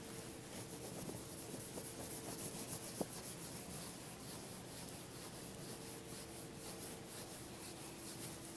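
A board is wiped by hand in a steady, continuous rubbing scrape for several seconds, fairly faint and close, with one sharp tap partway through and no speech.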